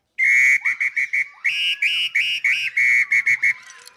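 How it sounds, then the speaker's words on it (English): A Brazilian parrot whistle blown in a series of loud, close, shrill chirping bursts, some trilled and warbling, broken by short pauses, with no voices. "This is a parrot whistle from Brazil."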